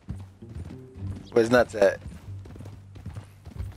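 Horse hooves clip-clop steadily in Red Dead Redemption 2 while a voice speaks over the rhythmic plodding, with faint creaks of tack underneath.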